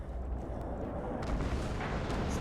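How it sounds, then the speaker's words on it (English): Continuous rumbling artillery fire in the Red Orchestra 2 video game, a dense low roar with faint distant booms layered through it and no voices. "Now let's stay away from this artillery."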